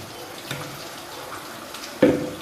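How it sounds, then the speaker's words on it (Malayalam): A faint trickle, then a short, close gush of water pouring into a bowl of fish marinade near the end. "വെള്ളം കൂടി ഒഴിക്കുക"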